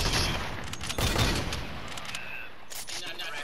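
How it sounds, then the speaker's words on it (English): Dense gunfire from many players in a shooter video game, bursts of rapid shots overlapping and swelling loudest around the first second before thinning into scattered volleys. "so many people shooting at me"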